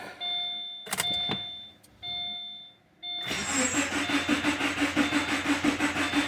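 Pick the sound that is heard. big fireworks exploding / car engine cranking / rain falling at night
car engine cranking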